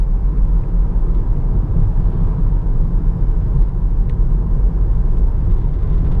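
A car passes on the road at night beside a parked SEAT Leon Cupra ST, heard as a steady low rumble of engine and tyre noise that holds fairly loud throughout with no talking.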